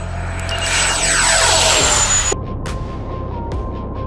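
A J-11BS model jet aircraft takes off and flies, a steady loud whine and rush of its engine sweeping past and pitching down before dropping to a quieter, distant drone.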